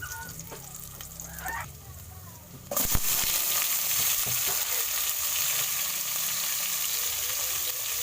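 Sudden loud frying sizzle of chicken meat in a pot for tinola starts partway through after a quiet stretch, then a steady bright crackling hiss continues close by.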